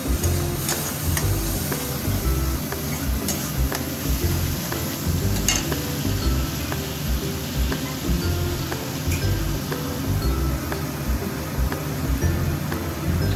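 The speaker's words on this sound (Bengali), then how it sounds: "মশলাটা দিয়ে আমি আঁচটা একটু কমিয়ে মশলাটা কষিয়ে নেব" Spice paste frying over low heat in a pan for a Bengali doi ilish curry, a steady close sizzle with occasional stirring scrapes and faint clinks throughout, no one talking.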